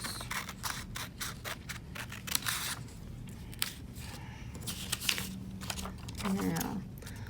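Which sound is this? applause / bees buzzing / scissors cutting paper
scissors cutting paper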